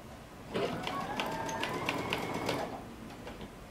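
A sewing machine stitches a cuff onto a knit lace sweater-dress sleeve, a steady rapid mechanical whir running for about two seconds with faint ticking, starting and stopping abruptly amid quiet room noise.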